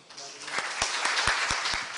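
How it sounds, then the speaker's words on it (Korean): An audience at a leadership seminar claps to welcome a speaker, a brief burst of applause with several sharp individual claps standing out, swelling over about two seconds. "박수로 맞아주십시오"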